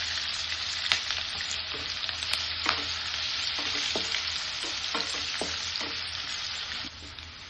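Onions frying in oil in a pan with cinnamon pieces and crushed cardamom, a steady close sizzle with crackles and stirring scrapes, fading slightly at the end.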